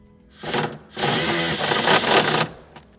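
A power driver sends a self-tapping screw into the steel body of a 2018 Renault Kadjar: a short whirring burst, a brief pause, then a longer grinding drive of about one and a half seconds, close and loud.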